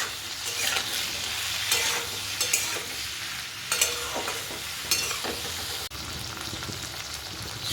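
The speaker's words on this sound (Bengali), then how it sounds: "এরপর আমি এর ভিতরে পরিমাণ মতো নুন আর হলুদ দিয়ে সুন্দর করে ভাজা করে নেব।" Vegetables frying with salt and turmeric for a fenugreek-leaf stir-fry, soft continuous sizzle broken by repeated scraping stirs of a spatula in the pan, close and moderately quiet.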